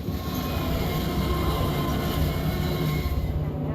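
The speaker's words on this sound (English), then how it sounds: "Train also will now come past over the bridge multiple times throughout the map as you progress" A train from The Division video game rumbles steadily as it crosses a bridge, a loud, continuous rolling roar of wheels and carriages with no voices over it.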